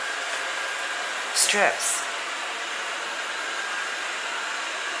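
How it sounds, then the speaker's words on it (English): An Amarey A900 robotic vacuum cleaner runs indoors with a steady airy whir and hum, while a person speaks briefly over the constant motor noise. "Alexa, turn vacuum off."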